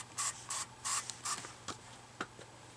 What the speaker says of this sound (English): just spray it on, shake it up,